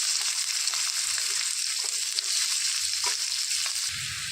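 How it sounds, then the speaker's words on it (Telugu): Chopped onions and cumin seeds fry in hot oil for a dhaba-style capsicum egg fry, a loud, steady, hissing sizzle with a few faint clinks and stirring sounds near the end, close up and without speech. "దోరగా వేయించేసుకోవాలండి"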